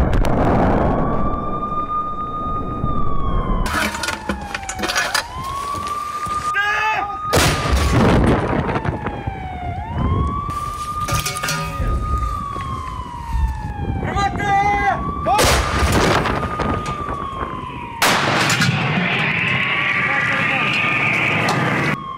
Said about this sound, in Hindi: अजोव जवानों ने हाउजर तोपों से किया जबरदस्त अटैक